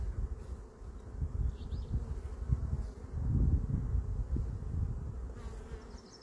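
Honeybees swarm at their hive colonies, a steady low droning buzz of many insects close by, swelling and fading slightly with no voices.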